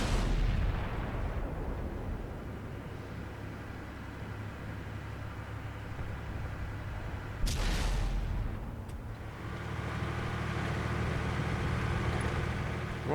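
Tank cannon fire in World of Tanks on Xbox, with a heavy booming shot near the start and another sharp blast midway over constant engine rumble and noise.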